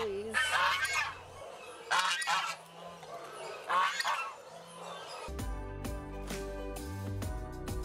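Several loud goose honks ring out in quick bursts at an animal rescue sanctuary in Costa Rica, followed by a different steady tonal backdrop in the last few seconds.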